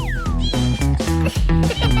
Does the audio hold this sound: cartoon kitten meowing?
yes